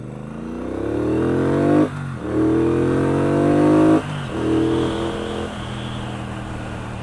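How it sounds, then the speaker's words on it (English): A Triumph Bonneville Bobber motorcycle accelerates hard onto a dual carriageway, its engine climbing in pitch through three rising pulls, each broken by a gear change, loud and close from the rider's position. "So as we pull out onto the dual carriageway in a minute, we'll see how well it gets up to speed."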